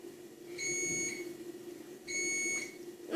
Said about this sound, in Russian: Извините за шум, это хлебопечка.